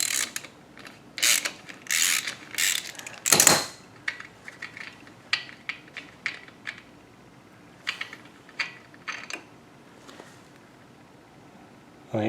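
Tap cutting threads into a Harley-Davidson Softail Fatboy oil drain plug hole, giving a run of close, irregular metallic clicks and ratcheting scrapes in bursts, with one louder rasp and quieter intermittent clicks afterward.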